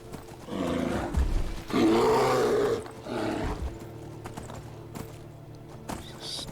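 Deep, drawn-out bear roars in the Skyrim Special Edition video game, two or three loud growling bursts over steady hoofbeats from a ridden horse.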